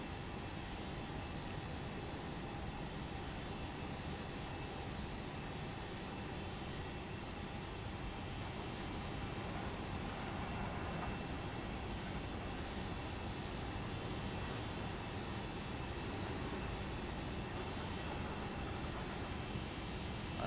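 Steady broadband roar of an FSLabs A320 airliner in the Prepar3D flight simulator during landing, a continuous engine and airflow drone holding level throughout with no talk.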